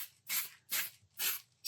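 Short bursts of spray paint hiss onto a plastic go-kart model part, four quick rhythmic sprays with brief pauses between, close and fairly quiet.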